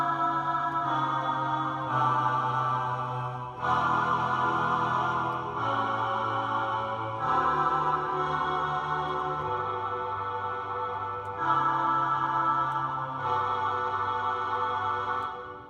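The vocal voice preset of a Technics KN-1200 keyboard plays sustained choir-like sung tones, moving through held chords in a steady phrase at moderate volume, with no talking.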